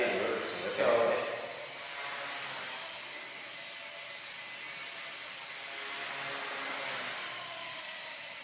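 A small RC helicopter's rotors spin at high speed on negative pitch indoors, producing a loud, steady whine and whoosh with a brief thump early on and a slight rise in pitch later.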